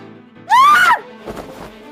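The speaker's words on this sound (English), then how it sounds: "Miu screams, then drops listlessly in Mibu's arms" Miu, a female character in the video game World End Syndrome, lets out a single loud, rising scream lasting about half a second, followed by a quieter, brief vocal sound.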